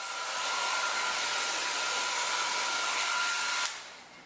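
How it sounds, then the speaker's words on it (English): A regular hair dryer blows steadily and loudly on curly hair, a close continuous whoosh that cuts off sharply near the end. "If you use a regular dryer on your hair like this"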